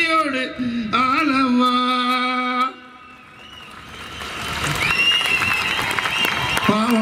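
Music with sustained tones fades out, then a dense wash of crowd clapping builds and continues loudly, a large audience applauding at a political rally stage speech.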